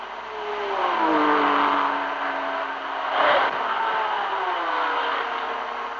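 Racing cars in an endurance race, including Fords, Porsches, Ferraris and Alpines, sweep past on a road one after another, engines rising and falling in pitch as they approach and pull away at moderate distance.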